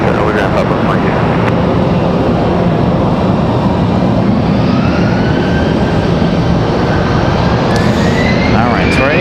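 Airbus A319 jet airliner at Raleigh Durham airport, a loud, steady broadband engine roar filling the whole stretch with a faint rising whine near the end.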